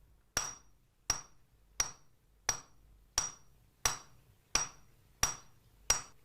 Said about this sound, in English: First, he hammers a plain iron rod down to a sharp point.